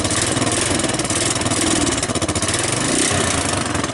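A Honda TRX400 4x4 ATV engine runs loud and close after a cold start, with a rapid, steady, slightly uneven chugging idle throughout.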